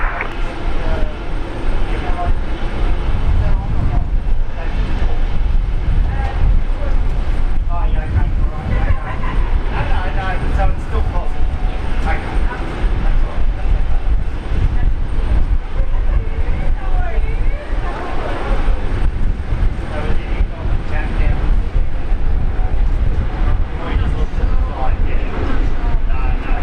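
A Boeing 787 rolls down the runway for takeoff at Brisbane Airport, a loud, continuous broadband jet engine roar that holds steady throughout without fading.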